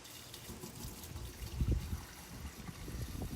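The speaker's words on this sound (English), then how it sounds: "you're going to pour about 1/4 to 1/3 of the bottle into the hole that leads to the pump" Antifreeze poured from a bottle into the hole of a pool skimmer that leads to the pump, a faint close trickling and gurgling of liquid lasting a few seconds.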